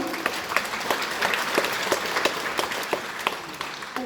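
A congregation claps during a morning church sermon, producing a loud, continuous, crackling burst of many hands that fills the room without a break.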